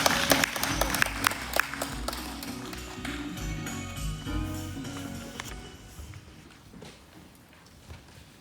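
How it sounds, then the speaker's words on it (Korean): Applause from a symposium audience in Jeju welcoming a keynote speaker: dense, loud clapping with a few sharp claps on top, tapering off gradually over eight seconds. "뜨거운 박수로 환영해 주시기 바랍니다."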